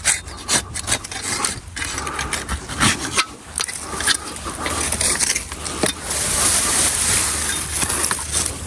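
A hand pruning saw cuts through an olive tree branch during rejuvenation pruning, giving a steady rasping back-and-forth sawing close by, with irregular strokes throughout and no talking.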